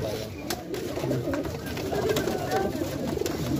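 Pigeons at a racing pigeon loft coo amid rustling wings and a busy background, while people talk nearby.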